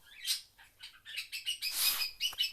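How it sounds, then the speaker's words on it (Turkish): Three pet birds chirping and tweeting indoors at home in quick, bright bursts, close by and fairly loud, with no talking. "kuşların sesi geliyor olabilir."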